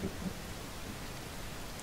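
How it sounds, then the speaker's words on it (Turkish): Steady, quiet rain hisses evenly throughout, a soft wash of falling drops with no voices, ambient rain in the video game The Forest. "Yağmur sesi geliyor ama yağmur yağmıyor."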